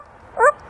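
A parrot imitates a dog's bark, giving one short, harmonic bow-wow call that is loud and close, with no talk alongside.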